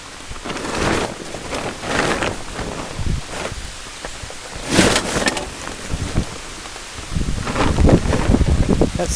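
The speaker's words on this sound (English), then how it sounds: "it's starting to rain" Rain patters and hisses outdoors under gusting wind buffeting the microphone, the noise swelling in louder bursts.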